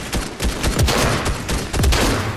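Rapid, close volleys of gunshots in a Fortnite no-build match, sharp cracks fired in quick clusters with little pause between them.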